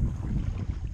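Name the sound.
boat moving in reverse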